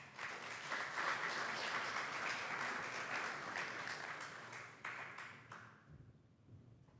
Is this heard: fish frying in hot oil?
no